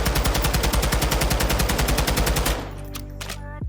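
TAC-56 rifle fired in Modern Warfare 2 with a quick-handling build: a rapid, loud, evenly spaced burst of full-auto shots for about two and a half seconds, then ringing echo and a few mechanical clicks.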